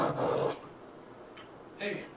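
A knife blade is sharpened on a sharpening stone to raise a burr, giving two short, quiet rasping strokes separated by a pause.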